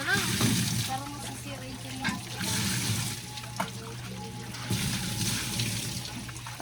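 Water splashes and trickles in short gushes, as if poured from a container, with a steady hum beneath and faint voices in the background.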